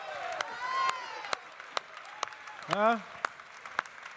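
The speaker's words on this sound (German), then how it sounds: "Und ein großer Applaus für Massimo" Sparse, crisp handclaps pop at irregular intervals during an award ceremony at the Swiss Coffee Festival 2023. Someone talks over them, with a brief louder vocal exclamation partway through.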